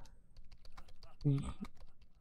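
In Internet Cafe Simulator, computer keyboard keys are tapped in quick, irregular clicks up close while someone talks over them.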